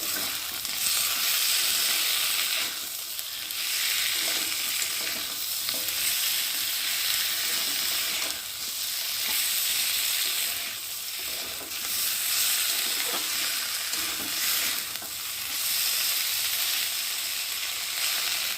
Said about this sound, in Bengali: দিয়ে দেবো আদা বাটা জিরে বাটা, দিয়ে দেবো একটু টমেটো কুচি, দিয়ে মশলাটা ভালোভাবে কষিয়ে নেব